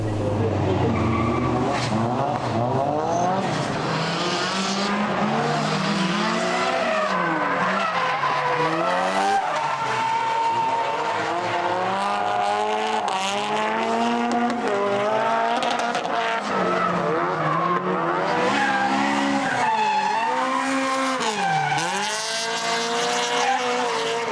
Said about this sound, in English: Combined with stiff suspension and a light rear-wheel drive chassis, you have the perfect recipe for some no-holds-barred drifting.